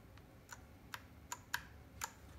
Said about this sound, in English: first we'll start putting the keys on so you can see how it looks compared to the other ones